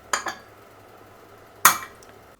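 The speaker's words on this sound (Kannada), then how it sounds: "ಕುಕ್ಕರ್ ಲಿಡ್ನ ಕ್ಲೋಸ್ ಮಾಡ್ಕೊಳ್ಳಿ." A pressure cooker lid is shut over mutton chops with two sharp metallic clanks about a second and a half apart. The second clank is the louder one, and a quiet kitchen sits between them.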